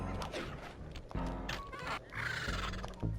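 A hawk swoops at the player in the stealth video game Sly 2, with a loud shrill screech and flapping, crashing effects over a few seconds, plus sharp impacts near the end.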